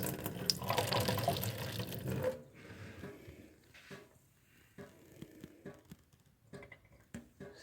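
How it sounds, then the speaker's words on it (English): Water pours into a plant saucer beneath a Snow White waffle plant, a close burst of splashing and trickling for about two seconds, then quiet with faint drips and small handling knocks. "I'm going to add some more water to the saucer."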